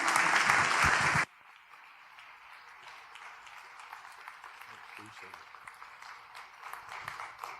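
A church audience claps loudly to welcome an author, a dense burst of applause lasting about a second before it cuts off, followed by someone speaking.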